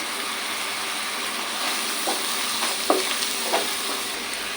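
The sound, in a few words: frying spices with turmeric powder for kofta curry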